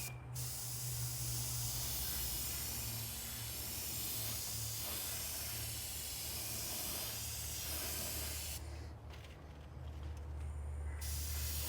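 Airbrush spraying watered-down Tamiya Wooden Deck Tan paint onto a model railway piece during weathering, a steady continuous hiss of air and spray over a low hum, briefly changing near the end.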